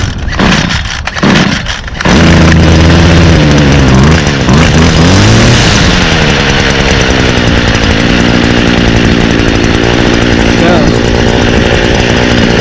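A small two-stroke engine on a garden power tool, fogged before winter storage and now smoking a little, is pulled a few times, then catches and runs loudly at close range, revving up and settling into a steady buzzing idle.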